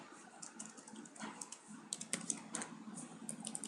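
Quiet, rapid typing on a computer keyboard during HTML coding, with steady irregular key clicks close by over faint room noise and no speech.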